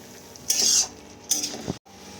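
Spices with Kashmiri chili and vegetables for a potato-cauliflower curry are stirred together in a pan, two bursts of close scraping and clattering against the pan over a faint sizzle, then a brief cut.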